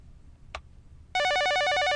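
A telephone ringing in the video game YU-NO, a single faint click followed by a loud, sudden electronic warbling ring that trills rapidly and continues to the end.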